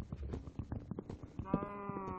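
Modded Minecraft cows, including apple variants, give a few bleating, moo-like animal calls over busy game sounds and footsteps, with a sustained tonal call near the end.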